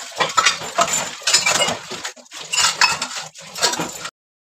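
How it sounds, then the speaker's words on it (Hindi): Dishes, pots and cutlery being washed by hand in a home kitchen, with repeated close metallic clinks, scrapes and clattering in busy bursts, continuing for several seconds before stopping abruptly. "मैं फटाफट से बर्तन धो लूँगी"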